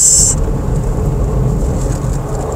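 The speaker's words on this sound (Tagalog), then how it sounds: "Sa expressway ang lakas ng ulan sa SLEX." Dense, steady heavy rain roars on a 2024 Suzuki S-Presso AGS driving on an expressway, over a low rumble, with a brief high whine at the very start; continuous and loud throughout.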